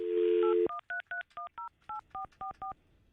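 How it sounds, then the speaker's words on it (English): A telephone dial tone cuts off, then a rapid sequence of about ten touch-tone beeps is dialed, evenly spaced and clear, on a live radio show. "Let me get Fester from his deathbed back on the phone"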